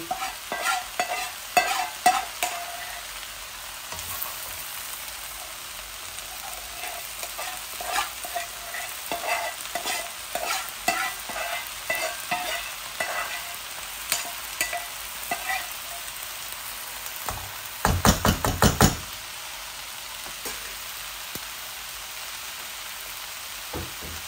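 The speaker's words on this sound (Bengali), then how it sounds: "এগুলো আলাদা করে আমি ভাজছি।" Dried fish (shutki) frying in a pan while being stirred, a soft continuous sizzle broken by frequent close scraping strokes and a brief louder rattling burst near the end.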